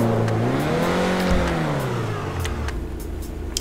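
A Grotti Cheetah Classic in GTA 5, freshly given a level 4 engine tune, revs up and back down in one rising-then-falling sweep, a loud close engine note with faint clicks behind it and no voices.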